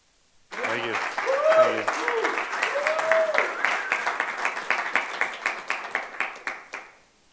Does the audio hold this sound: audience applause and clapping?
yes